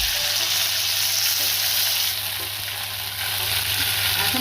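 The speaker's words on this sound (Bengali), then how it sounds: "তেলটা গরম হয়ে গেছে, আমি সর্ষেটা ফোড়নি দিয়ে দিলাম। সর্ষেটা হোক, তারপরে কারি পাতাটা দিয়ে দিলাম।" Mustard seeds and curry leaves crackle and sizzle in hot oil for kanda poha, a loud continuous frying hiss close by with an underlying hum, no talking.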